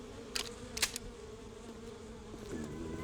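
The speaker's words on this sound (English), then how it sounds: "Fuck the bees! Bees!" Bees buzz in a steady, close drone, a couple of sharp clicks breaking through early on, with no talking.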